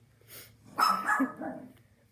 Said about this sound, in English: Please excuse Josette, who won't quit barking.